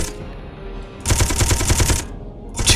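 Chain guns firing in Space Engineers: a rapid mechanical burst of rattling shots for about a second, then a brief pause and another short burst starting, close and loud with a low engine hum underneath, no talking.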